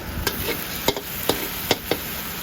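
Curry paste being stir-fried in a hot pan for a spicy Thai eel stir-fry, with a steady low sizzle and several sharp scrapes of the spatula at uneven intervals, close and fairly loud.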